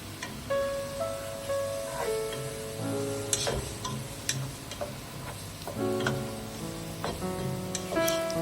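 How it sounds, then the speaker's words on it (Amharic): Chopped tomatoes stirred into a hot pan for soup give a soft, steady sizzle with light scraping and clicking from the stirring, under faint tonal background music. "ቲማቲሙ ጨምሬ የተወሰነ አዋህደዋለሁ።"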